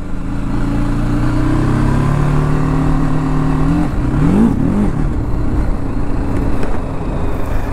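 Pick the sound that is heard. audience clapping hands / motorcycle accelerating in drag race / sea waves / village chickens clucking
motorcycle accelerating in drag race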